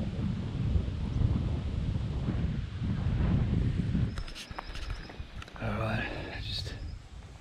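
Gusty wind blows up a ridge line on a property scouted for red deer bow hunting, a heavy low rumble buffeting the microphone for about four seconds before easing into quieter, calmer air with faint scattered sounds.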